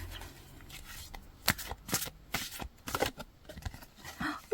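Oracle cards are drawn and shuffled by hand in a run of crisp, close riffling and slapping bursts of card stock, with no talk.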